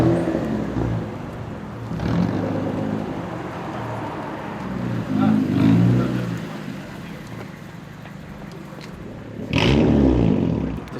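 A Japanese kaido racer car, fitted with C130 Laurel marker lights and metal front parts, pulls up nearby with a low engine rumble that swells twice, loudest near the end, over steady background noise.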